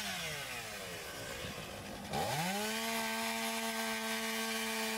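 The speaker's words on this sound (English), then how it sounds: "the sawyer makes a parallel cut on the non-egress side" A chainsaw runs near and loud, cutting into residential roofing materials for a ventilation cut: rough grinding as the bar bites, then the engine revs up into a steady high whine that holds to the end.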